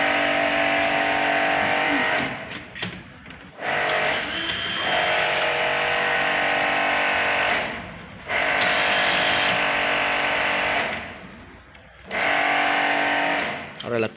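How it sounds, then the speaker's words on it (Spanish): A power screwdriver backs screws out of a Daewoo washing machine lid, with three long, loud whirring runs separated by short pauses, close to the mic. "Vamos a sacar esos tornillos"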